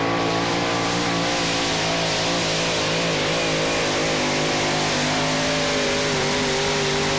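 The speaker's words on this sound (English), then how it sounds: "A single 450 Chevy powering him along." A tractor-pulling tractor powered by a single 450 Chevy engine roars steadily at a pulling event in Holland, a loud, sustained engine drone with shifting harmonic pitch throughout.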